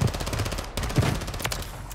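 Rapid automatic gunfire rattles in bursts in the shooter video game Warzone, dense close shots with a few louder cracks over about two seconds, with no speech.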